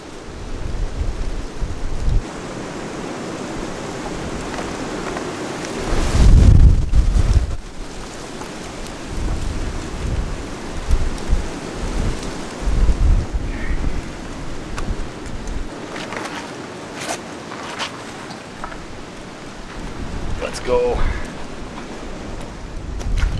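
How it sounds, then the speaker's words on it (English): A thunderstorm with heavy rain around an abandoned house: a constant loud hiss of rain, with deep thunder rumbles rolling in partway through and fainter cracks and drips later. "It looks like there's a bit of a storm rolling in."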